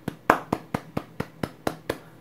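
One person claps nine times in an even rhythm, close and crisp, each clap sharp and distinct against a quiet room.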